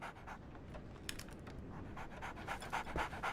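A dog panting quickly and steadily in Sherlock Holmes The Awakened, close and fairly quiet with a few faint scratchy ticks, no speech.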